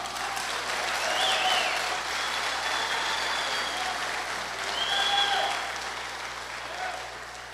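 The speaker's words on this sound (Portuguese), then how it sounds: "Você pode dar um aplauso ao Senhor?" A church congregation applauds steadily for several seconds, the clapping dense and sustained with faint crowd voices mixed in.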